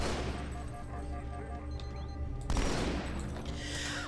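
Dense, continuous gunfire from the Halo 2 Anniversary video game, a steady rattle of rapid shots with a sharper, louder burst about midway through.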